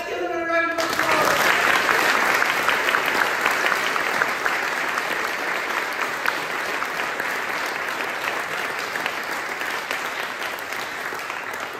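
An audience gives sustained applause for the Workington Academy musical theatre group at a school community event, a full dense wash of clapping lasting over ten seconds after a brief voice at the start.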